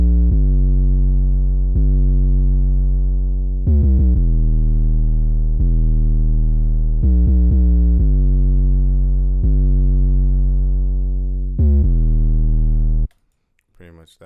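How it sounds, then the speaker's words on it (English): Deep, booming 808 bass notes play a rhythmic pattern, some long and sliding, others in quick bursts, loud and alone until a brief noisy tail. "I'll show you guys the pattern for the 808."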